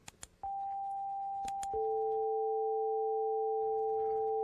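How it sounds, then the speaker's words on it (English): A tone generator plays steady pure sine tones, one held pitch then stepping to a lower one, loud and sustained for several seconds after a few sharp clicks, with no talking. "let's use the tone generator on the right to see if we can figure out what that mystery frequency is"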